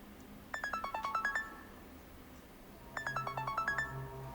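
A phone ringtone plays two bursts of quick, bright electronic beeps in a rising-falling pattern, separated by a pause of quiet room noise.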